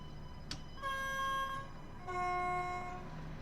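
A train in a simulator game runs along with a low rolling rumble, overlaid by two sustained tonal horn-like blasts at steady pitch, plus a brief sharp click near the start; fairly quiet overall.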